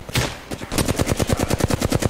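Rapid automatic gunfire in the battle royale shooter Apex Legends, a dense rhythmic burst of loud, near shots repeating steadily for the whole stretch, with no talk over it.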